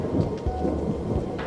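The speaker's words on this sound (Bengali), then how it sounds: "বাইরে বৃষ্টি ঝরছে," Heavy rain pours steadily with low thunder rumbling beneath it, a dense, continuous storm wash setting a horror story's gloomy night scene.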